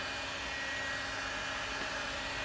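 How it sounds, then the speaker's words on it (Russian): A hand-held construction heat gun blows hot air onto a cracked, dented plastic bumper of a BMW 3 Series, giving a steady, even fan whoosh with a faint whine, constant and unbroken throughout. "Берем обычный строительный фен"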